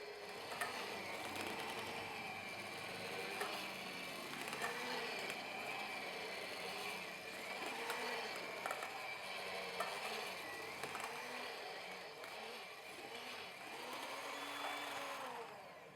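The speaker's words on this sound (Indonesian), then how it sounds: "Lalu aku mixer kembali sekitar 3 menit sampai semua bahan ini tercampur rata." An electric mixer churns doughnut dough made with instant yeast and bread improver, a continuous whirring motor with a faint rhythmic knocking, steady and moderately quiet throughout, with no talking.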